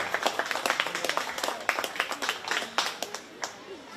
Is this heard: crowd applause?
yes